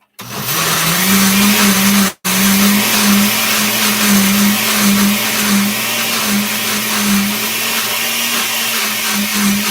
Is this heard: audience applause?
no